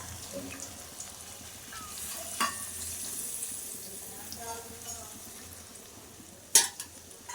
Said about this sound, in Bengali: বাটি ধোয়া জলটা আমি দিয়ে দিলাম